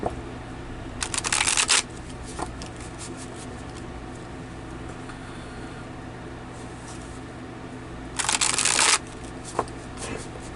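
Tarot cards are shuffled in two short, crisp riffling bursts separated by several seconds of quiet room hum, with a few faint soft taps between them.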